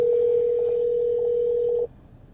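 A steady telephone tone holds for nearly two seconds on a call to an aviation service desk in Greensboro, North Carolina, then cuts off abruptly, with no voices.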